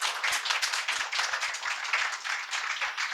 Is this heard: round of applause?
yes